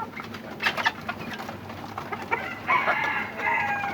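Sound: chickens and rooster crowing

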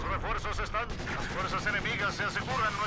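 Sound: machine gun fire in Company of Heroes 2 video game

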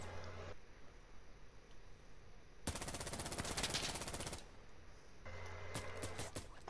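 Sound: MP7 submachine gun firing in Insurgency video game

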